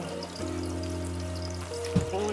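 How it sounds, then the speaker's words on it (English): Liquid ingredients for waffle batter pour onto the dry mix in a bowl, a short, close stream over a steady background hum. "add the liquid portion onto the dry mix."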